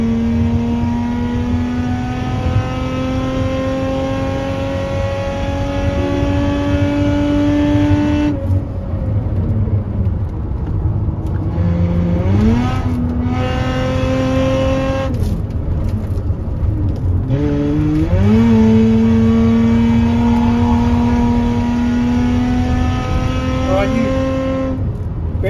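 A car engine accelerates hard, its pitch climbing repeatedly through gear changes, then easing and rising again through several turns; loud, close, continuous engine sound.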